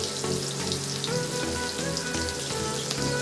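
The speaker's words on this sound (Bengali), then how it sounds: "পেঁয়াজটা একটু হালকা লাল করে ভেজে নেব।" Chopped onions and green chillies fry in a pan, giving a continuous close crackling sizzle that stays even throughout.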